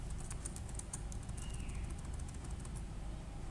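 Quiet, quick keystrokes on a computer keyboard as a CNIC number is entered into the NADRA Pakistan website, a short run of light clicks over a low background hum.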